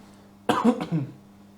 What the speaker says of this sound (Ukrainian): А тепер покашляти.